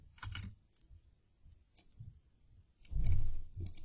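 Typing on a computer keyboard while entering a label for an Access form button: a few scattered clicks, then a short louder burst of keystrokes near the end, close and quiet.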